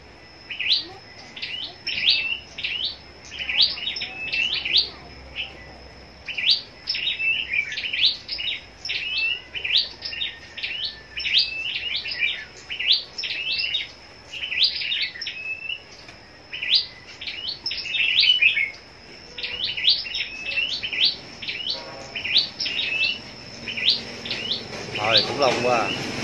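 A scarlet-backed flowerpecker kept for song contests sings a close, continuous run of rapid high chirps and twittering phrases, repeating in bursts with brief pauses over a faint background hum.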